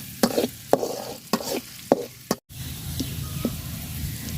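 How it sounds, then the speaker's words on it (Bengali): Chopped onion and garlic fry in hot oil, stirred with a spoon in a run of regular scraping strokes over a soft sizzle, then the sizzle continues more quietly with a few light clicks. "পেঁয়াজ আর রসুন লাল লাল করে ভাজা নিছি"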